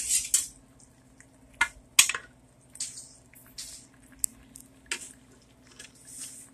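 Metal tongs stir chicken tenderloins in BBQ sauce in a pan, giving wet squishes and scattered light clinks at an irregular pace, close by and without talk.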